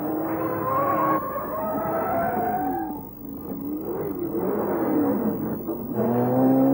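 Race cars, including Porsches, battle closely on track with loud, overlapping engine notes that rise and fall as they accelerate and change gear.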